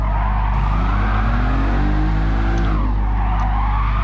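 A car on comfort tyres drifting in GT Sport, its engine droning steadily while the tyres squeal and slide with a rising and falling pitch, loud and continuous with no talk.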